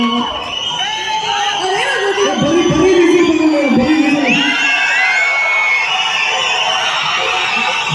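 A crowd at a film pre-release event cheers and shouts loudly, with whoops and high whistles rising over a dense roar of voices throughout.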